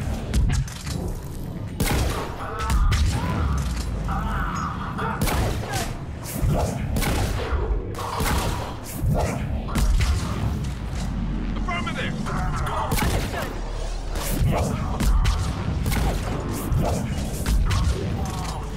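Automated gun turret firing in the sci-fi shooter Mass Effect 3, with bursts of rapid shots and booming impacts recurring throughout a long firefight, mixed with other combat noise and occasional talk.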